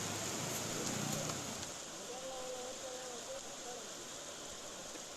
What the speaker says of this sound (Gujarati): ભારે પવન અને ગાજવીજ સાથે શહેરમાં ધોધમાર વરસાદ પડતા ઠેર ઠેર પાણી જોવા મળ્યું